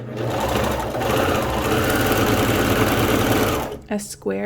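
A sewing machine runs steadily for nearly four seconds, stitching along the edges of fabric sewn right sides together for a buttoned-up garment pattern, then stops as a voice begins speaking.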